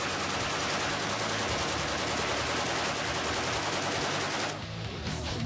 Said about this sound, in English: the M60 is the biggest gun that a man can operate.